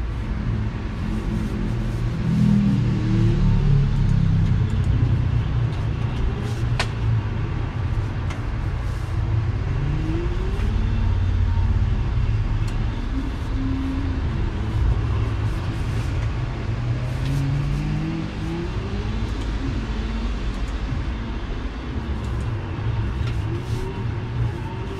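A rallycross car engine in the racing sim Automobilista 2, played on a Fanatec wheel: a continuous loud engine drone that rises and falls with repeated revving sweeps through gear changes across the whole stretch, with no one talking.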